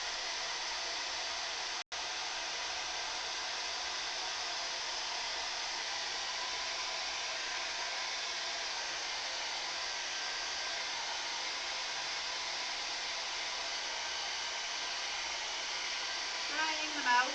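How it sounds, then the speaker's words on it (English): A hair dryer blowing on low heat to dry paint on a canvas, a steady, even whooshing hiss that continues almost without break, close and moderately loud, with only a brief cut near the start. "just going to get my hair dryer out"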